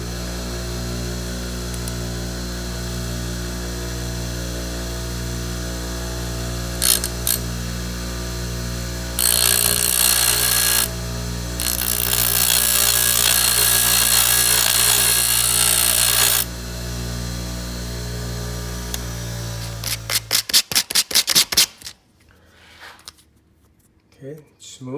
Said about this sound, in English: I'm gonna pull that light out and just shave a hair off on the grinder.